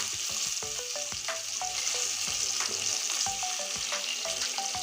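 Fish frying in a pan, a continuous oily sizzle close by, broken by frequent clinks and scrapes of a spatula against the pan in quick irregular bursts, with no talking.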